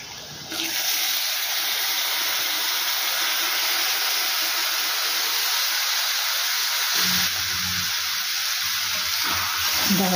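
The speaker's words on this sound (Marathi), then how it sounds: "आता ही डाळ आपण कढईत टाकून घेऊया." Drained moth bean dal tipped into a hot kadai of spices gives a steady, loud sizzle that runs almost unbroken for about ten seconds, close and continuous with no talking over it.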